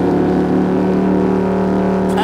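Porsche 911 Turbo and Audi R8 V10 Plus accelerating hard in a drag race, a loud steady engine roar with rising harmonic tones throughout, sustained and close.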